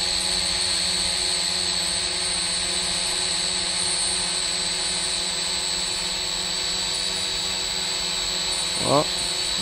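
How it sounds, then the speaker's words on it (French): A brushed Mavic Mini clone S162 drone climbs, its steady high-pitched whine and buzzing motor drone running unbroken and fairly close throughout, with a brief faint chirp near the end. "Le drone monte."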